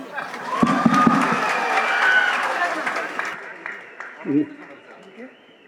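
A crowd claps and cheers at a film event, a broad wash of applause that swells and then fades out after a few seconds, with voices over it.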